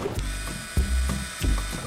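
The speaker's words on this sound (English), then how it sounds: "We're drilling into the workbench." A power drill at reduced beginner speed drives screws into a wooden board on a workbench, giving short whirring bursts with ratcheting clicks, close and moderately loud, with spoken voices nearby.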